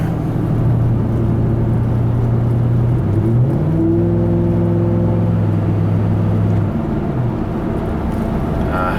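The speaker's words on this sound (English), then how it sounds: "It's got some tire noise, of course, because this thing has like friggin', I don't know, 36-inch wheels on it" Tire noise from a Ford F-150 pickup on 36-inch wheels cruising on a road: a steady loud low rumble and whir, with a droning tone that shifts pitch midway, and no talking.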